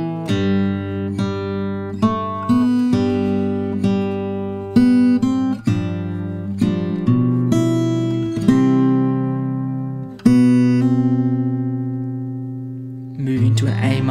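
Plucked acoustic guitar plays the Away in a Manger fingerstyle melody with bass notes beneath, a steady flow of ringing notes, and a few final notes fading out.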